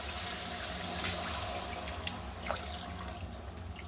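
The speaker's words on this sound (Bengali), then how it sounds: "ওর জল আমি ঢেলে দিচ্ছি" Water poured into a cooking pot of jungle taro (kachu) curry, a steady broadband splashing flow that holds for several seconds at moderate level, with no voices.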